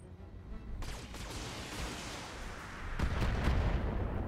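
Artillery fire in the BattleTech video game rumbles as a dense, continuous barrage, with a sharp blast near the start and a heavier low boom toward the end, loud and with no voices.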